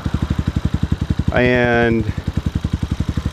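Honda-style Hawk 250 motorcycle with an aftermarket Amazon exhaust idling close by, a steady loping putter of even pulses, briefly interrupted by someone speaking a word over it.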